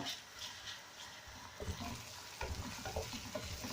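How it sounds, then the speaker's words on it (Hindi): Soft sizzle of garlic frying in a pan with occasional stirring scrapes and clatters, close by and without any voices. "अब इसके अंदर हमने लहसुन डाल दिया है, और लहसुन को हम थोड़ा सा ब्राउन करेंगे"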